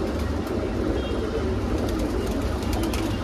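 Punjabi pigeons in a sale stock cooing amid a dense, constant outdoor noise, their calls blending into the steady roar with a low rumble underneath.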